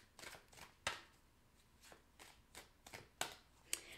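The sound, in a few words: tarot cards being shuffled and drawn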